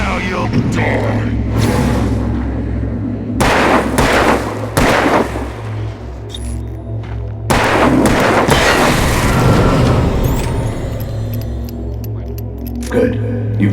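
Gunfire from the video game Alan Wake: several heavy, booming shots land in clusters and echo over a low droning ambience, while a voice speaks between the blasts.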